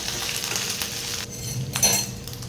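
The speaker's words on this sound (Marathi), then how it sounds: "अद्रक आणि हिरवी मिरची टाकून घेऊया व्यवस्थित परतवून घेऊया" Ginger and green chili sizzle and sauté in a pan for a Navratri fasting kadhi, with a soft steady fry, a brief pause, then a louder stir and a faint clink of a spoon.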